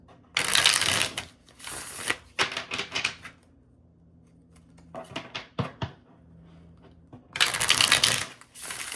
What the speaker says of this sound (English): I'm going to do the old-fashioned shuffle